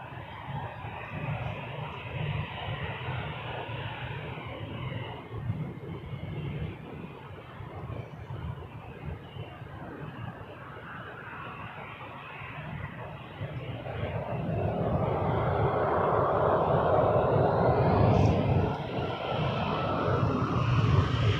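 Jet airliner passing at Toronto Pearson airport, a steady broadband roar that swells louder in the second half as the aircraft comes closer, with no talk over it.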